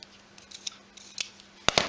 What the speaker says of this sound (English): quickly trim this end off here with my scalpel I've got here